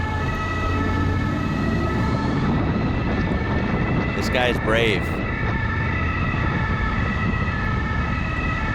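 Ambulance siren wailing through heavy tunnel traffic in France, a continuous rising and falling tone over loud, steady road and engine noise, with a person talking briefly partway through.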